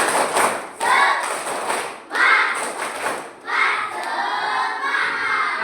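A school class performs a spirit clap chant, shouting in unison with rhythmic bursts of clapping and thumping, several loud group beats followed by a sustained chanted call.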